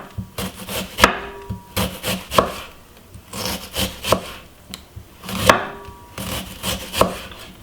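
A knife slices vegetables for a spinach salad into round pieces on a board, with about a dozen rhythmic, close cuts arriving in quick clusters and no talking.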